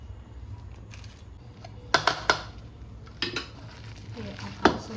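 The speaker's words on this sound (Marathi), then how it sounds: "हे आपण असं मिक्स करून घेऊया." A spoon stirs and scrapes through a chana and potato masala filling for pani puri in a bowl, with a few sharp clinks against the bowl over a quiet kitchen background.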